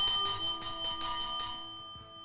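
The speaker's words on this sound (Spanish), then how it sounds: "Por eso vamos a sonar la campana" A bright metallic bell rings several times in quick succession, its clear tones lingering and fading out into a soft decay.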